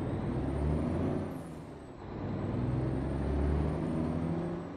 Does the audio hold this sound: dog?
no